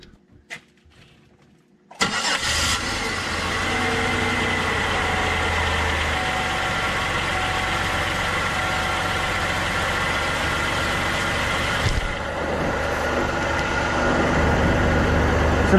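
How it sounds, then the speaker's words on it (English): After a brief quiet moment with a few clicks, a car engine cranks and catches, then settles into a steady, loud idle that continues to the end. "go ahead and start the engine"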